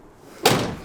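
Sprinter van doors being shut from inside, a single close slam with a dull thump followed by a short rattling decay, heard alone.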